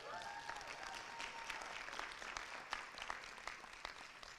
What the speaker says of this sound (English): Mr. Pasadino, yep, you can clap.